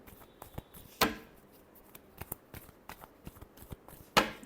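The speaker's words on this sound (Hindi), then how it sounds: "last shuffle" Tarot cards are shuffled close by, with soft riffles and light taps and two sharper snaps as the deck is squared, quiet and without speech.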